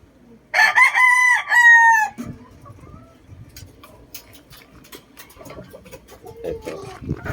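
Backyard gamefowl pens with a rooster crowing once, loud and close, in a long drawn-out call, followed by quieter clucking, rustling and scattered farmyard noises.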